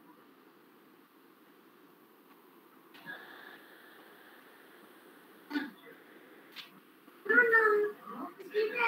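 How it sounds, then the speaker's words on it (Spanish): A kitten meows a few times in short, fairly clear calls over a quiet room, with a voice speaking nearby. "Un gatito."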